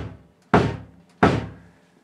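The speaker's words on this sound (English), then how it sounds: "I've got the Farmer foot drums bass drum" Two deep, booming kick-drum hits from a Farmer foot drums bass drum, played unmiked, each landing about half a second apart and ringing out briefly before the next, close and loud with no talking.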